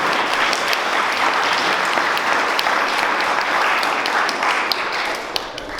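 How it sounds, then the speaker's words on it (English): A crowd applauds continuously with dense, sustained clapping, loud and steady from start to finish, tapering slightly at the end. "So big round of applause for my brother"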